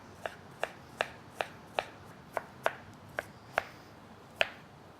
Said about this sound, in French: je vais la couper en petits cubes